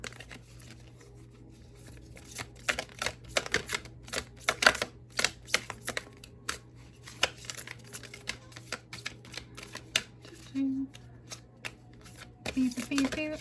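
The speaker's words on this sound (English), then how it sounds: "So when I try to shuffle them" Glossy, shiny tarot cards shuffled by hand in a quiet room: quick bursts of crisp riffling and flapping with brief pauses between, soft and close, with someone talking throughout.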